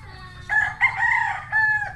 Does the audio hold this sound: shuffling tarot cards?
no